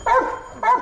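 At a dog resort in Kengeri, a dog gives two short, close, loud barks in quick succession, each a brief yelping bark-whine with a clear pause between them.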